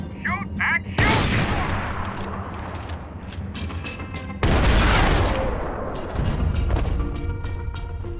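Gunfire in a Max Payne 3 shootout, with dense bursts of automatic fire and heavy booming shots filling the scene in loud continuous volleys, plus a brief high tone at the start.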